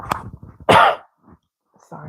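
A person coughs once sharply and close by, with a few soft throat and breath noises before and after.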